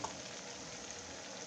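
Gravy made with butter and skim milk simmers in a pan, giving a continuous soft bubbling hiss, steady and fairly quiet with no voices over it.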